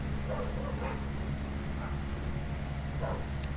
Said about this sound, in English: Dogs again, man.